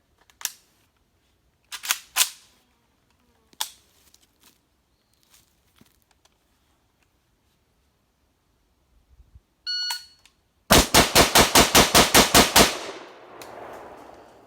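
Gunfire from a 5.56 AK SPR rifle in a video game: scattered sharp clicks and single reports, then a loud rapid burst of roughly ten close shots that fades into a short echoing tail.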